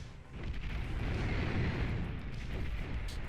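Banisher units firing in the strategy game Beyond All Reason: a continuous rumble of artillery-like blasts and explosions rolls on at moderate volume, dense and low, without talk.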